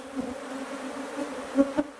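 A steady, droning hum of Saskatraz honey bees buzzing close by, with a couple of louder passes near the end.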